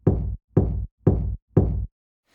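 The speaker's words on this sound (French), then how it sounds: "Un matin, Nif Nif entendit frapper sur sa porte." Four firm, evenly spaced knocks on a wooden door, close and loud, each a short thud followed by a brief silence.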